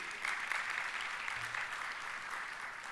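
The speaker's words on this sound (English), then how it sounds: "Can we a big round of applause for our vice chairman and secretary?" Audience at a business gathering applauding its vice chairman and secretary, a dense, continuous wash of many hands clapping at even loudness throughout, heard from within the crowd.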